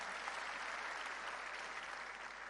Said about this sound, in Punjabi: ਇੱਕ ਵਾਰ ਜ਼ੋਰਦਾਰ ਤਾੜੀਆਂ ਮਾਰੋ